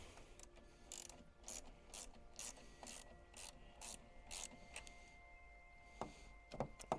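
A ratchet clicks in quick repeated bursts while tightening the battery terminal clamp on a Dacia Spring electric car, each stroke a crisp metallic rasp heard close up, with a few louder knocks near the end.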